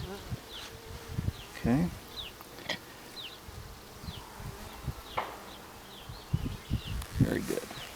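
Bees buzz around an open new beehive during a two-week inspection. Scattered buzzing passes come and go close by over soft rustling and handling knocks, and a voice speaks briefly.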